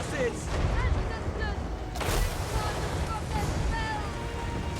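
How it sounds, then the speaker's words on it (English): Distant artillery fire in a video game booms under a constant roar of ambient noise, with a sharp heavier blast partway through and faint whistling streaks overhead. "And you gotta love our southern artillery."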